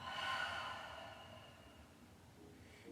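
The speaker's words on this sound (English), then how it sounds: "Exhale it out." A deep, drawn-out exhale during a core yoga breathing practice, a soft breathy rush loudest at the start and slowly tapering off over a few seconds, heard alone and close.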